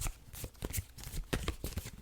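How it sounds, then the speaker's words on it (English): Tarot cards being shuffled up close, a quick run of papery riffles and taps in an irregular rhythm, soft and isolated. "Okay, guys, I'm shuffling my cards."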